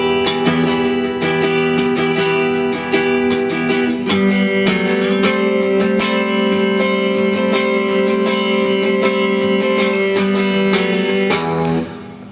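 Guitar intro, a continuous ringing picked pattern with sustained notes and bright string attacks, played alone at steady volume for most of the passage.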